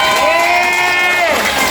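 A large crowd at a Philippine political rally shouts and cheers in a loud, sustained roar with layered voices, close and continuous, without a break.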